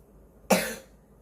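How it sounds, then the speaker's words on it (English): One short, sharp cough, fairly near, in an otherwise quiet moment. "Sorry, I had a cough."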